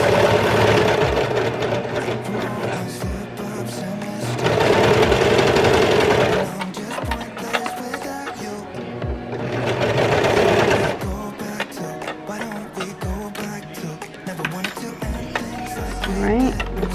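A Brother 1034DX serger stitches the armhole of a baby romper, running in loud bursts of rapid mechanical whirring separated by quieter pauses, with occasional taps and shifting of fabric.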